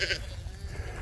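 A sheep in a flock being moved by a shepherd gives a short bleat, close and brief, in a quiet outdoor setting.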